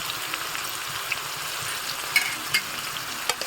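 Masala for fish bhuna frying in a pan, a steady soft sizzle with occasional sharper pops and stirring scrapes, close and moderately quiet, no talking.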